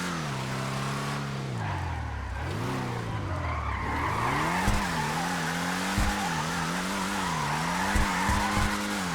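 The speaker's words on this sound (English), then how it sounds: "Just do some burnouts in this damn thing." A stock car in a driving video game does burnouts in a cul-de-sac, its tires squealing in long, wavering howls that rise and fall over a constant engine drone, with a few brief thumps.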